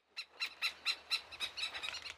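Antarctic seabirds near a colony give a rapid series of about ten sharp, squealing alarm calls while defending against intruders, fairly close and without talk.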